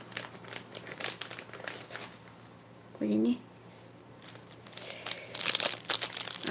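Plastic packaging crinkles and rustles as Hobbyra Hobbyre sashiko embroidery thread is drawn out of its bag, close by and in uneven bursts, while a person talks softly throughout.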